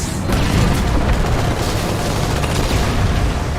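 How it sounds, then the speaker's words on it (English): A loud, continuous burst of explosive booming and gunfire-like blasts from a Halo 2 multiplayer match, filling the whole stretch with dense rumbling impact noise and no talking. "suddenly there was an explosion and it killed the passenger"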